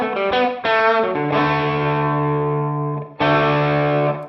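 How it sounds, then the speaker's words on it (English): Distorted guitar notes and a held chord ring out with a short, roomy ambience around them, then a fresh chord strikes near the end. "I have some like room sounds."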